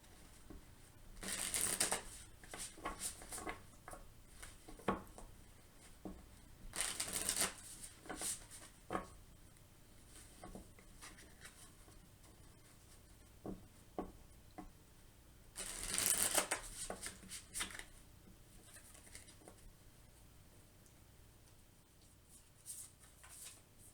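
Tarot cards riffle-shuffled in several loud bursts, with softer taps and slides of the deck between them, close up and with no talking.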